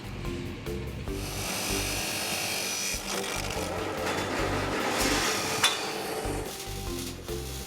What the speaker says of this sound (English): there's a table saw going off. It's loud.